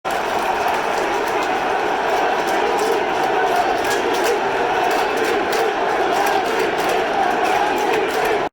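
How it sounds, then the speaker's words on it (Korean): A baseball crowd at Rogers Centre in Toronto roars and cheers in a continuous, dense wash of noise, with rhythmic clapping and shouts rising over the steady din of a packed stadium. "보가 등장하자 그동안 미국 언론에게 많이 시달린 보를 위해 큰 환호를 보내주었습니다"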